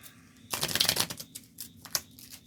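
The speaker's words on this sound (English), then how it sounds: "As I'm shuffling up." A deck of cards for the print-and-play board game Thief in the Forest of Wyr is shuffled up close. One crisp riffle burst is followed by a few lighter card taps and clicks.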